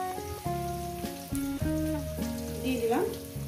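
Sliced onions sizzle and fry with a soft, crackling hiss in a hot pan. The sizzle sits faintly beneath louder background music with sustained tones.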